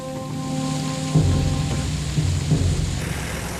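A steady wash of heavy rain from a storm fills the background while low thunder rumbles and rolls beneath it, loud and continuous with no voices.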